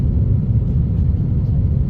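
A deep, steady low rumble and drone fills an airliner cabin during landing descent, engines and airflow constant and close.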